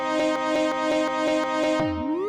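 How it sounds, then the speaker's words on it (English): The Octo alert alarm from the Octonauts cartoon rings out loud and steady, a bright tonal siren pulsing in about five even beats before sliding downward and fading out at the end. "Quasi, sound the Octo alert"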